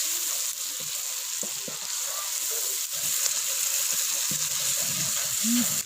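Spices fry with chillies, turmeric and cumin, a dense steady close sizzle with occasional light stirring knocks and scrapes under it.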